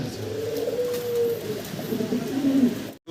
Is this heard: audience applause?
no